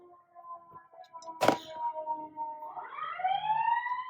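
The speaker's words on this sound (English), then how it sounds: "Oh, 2 sirens." A siren wails faintly in the distance and rises in pitch over several seconds. It starts just after a sharp knock close by.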